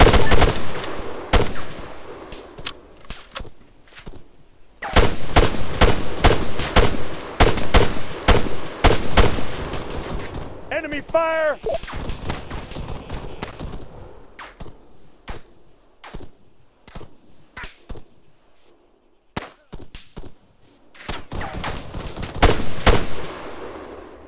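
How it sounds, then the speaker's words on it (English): Gunfire crackles through a military video game firefight in a co-op scenario with Greek units, loud bursts of automatic fire and single shots clustered in volleys, a brief whistling tone midway, then sparser distant shots before a final heavy burst. "Fire! Under fire!"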